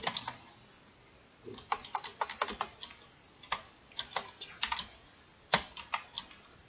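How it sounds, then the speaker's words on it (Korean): Typing on a computer keyboard while entering a spreadsheet formula: bursts of quick, close clicking keystrokes with short pauses between groups, no voices. "if부터 타이핑합니다"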